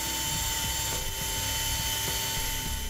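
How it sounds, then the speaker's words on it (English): A steady, high-pitched motorized whine of a drill spinning a tube brush, running continuously at constant speed throughout. "I cut the end off of mine and just stuck it in a drill."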